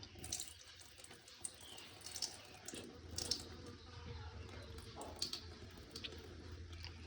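Jamun fruit being rinsed by hand in a container of running water, with a steady tap-like flow, faint splashing and a few light knocks and sloshes throughout, no talking.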